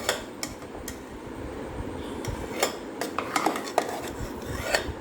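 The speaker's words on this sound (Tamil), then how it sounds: "ஒரு தோசை கரண்டி மாதிரி எடுத்து நான் கிளறி விட்றேன்." A dosa ladle stirs tomato rice in a metal pot, giving repeated scraping and clinking knocks at an uneven rhythm over a steady background hum, close up with no talking.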